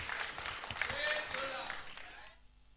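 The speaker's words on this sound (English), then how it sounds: "Let's welcome them with a round of applause." Audience applause greeting a senior high school team at a national investment quiz competition, moderate clapping from a hall crowd that fades out near the end, with some voices mixed in.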